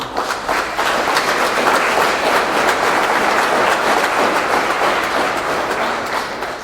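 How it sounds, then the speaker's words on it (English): A Purple Heart Day ceremony audience applauding the Purple Heart recipients: a dense, loud, even wash of clapping that sustains throughout without speech. "if we can honor another round of applause for our Purple Heart recipients, it'd be great"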